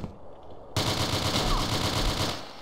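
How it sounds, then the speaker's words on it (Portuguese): After a moment of quiet, a loud, sustained volley of rapid M107 rifle gunfire in the video game MTA DayZ erupts and continues steadily, with no talking. "Me deu um tiro de M107"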